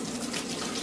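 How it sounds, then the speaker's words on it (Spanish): Water running steadily in a home shower, a continuous close hiss with no voices over it. "Y ahora vamos a la ducha."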